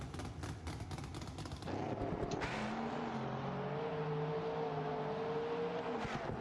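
A simulated car engine in BeamNG revs and holds its RPM in a lower gear rather than shifting straight up, a sustained droning tone that changes abruptly partway through and then stays steady.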